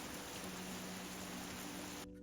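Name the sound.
rain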